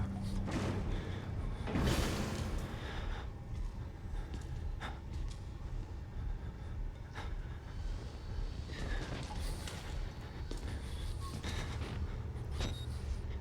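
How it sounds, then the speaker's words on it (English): Heavy repeated thuds from an enemy pounding on a door in the horror video game Outlast, set in Mount Massive Asylum, landing as dull impacts over a dense, rumbling ambient game score with no talk. "Oh, he's gonna bust the door down."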